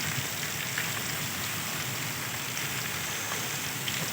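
A heavy summer storm brings steady, dense rain, with water pouring off a roof as a continuous loud hiss and patter that holds level throughout and has no talking.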